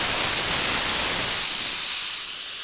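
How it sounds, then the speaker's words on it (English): A Laurastar steam iron blows a loud, steady hiss of steam out through its hose, fading somewhat toward the end of the burst. "Always blow the steam out so it comes out of the hose with your Laura Star."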